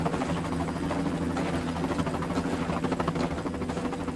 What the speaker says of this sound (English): scientists used a helicopter to locate 10 moose